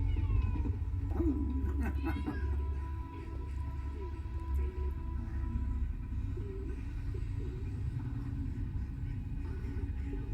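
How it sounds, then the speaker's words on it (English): A cat meows in the video game Half-Life: Alyx, a few short cries near the start over a steady low game-world rumble and hum, then the ambience continues without further calls. "There's the kitty cat."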